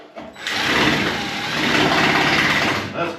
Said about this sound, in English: Let's just drill.